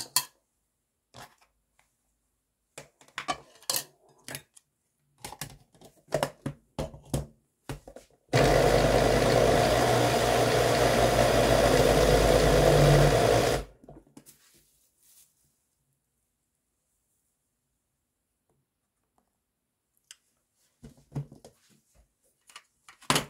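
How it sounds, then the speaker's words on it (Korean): A blender roars loudly for about five seconds as it purées a bowl of cooked rice for young radish kimchi seasoning. Scattered clicks and knocks come before and after the grinding. "밥 한 공기를 넣어서 다시 갈아보도록 하겠습니다"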